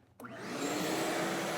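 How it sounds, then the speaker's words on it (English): A vacuum cleaner switches on after a brief quiet moment, its motor whining up quickly into a steady, loud roar close by. "you can break out the vacuum cleaner"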